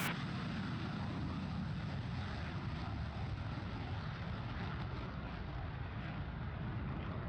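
An aircraft engine roars steadily during a takeoff run, a broad, dense rumble with wind-like hiss that stays at a constant loud level throughout, with no talk over it.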